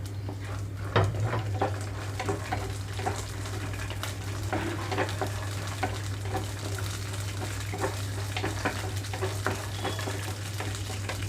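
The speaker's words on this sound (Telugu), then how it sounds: "ఇక్కడ పల్లీలతో పాటు సమానంగా పచ్చిమిరపకాయలు కూడా వేసేస్తున్నానండి త్వరగా ఫ్రై అయిపోతాయి పల్లీలు" Peanuts and green chillies fry in a pan over low flame, giving a soft bubbling patter with scattered crackles and light stirring clinks under a steady low hum, with no voices.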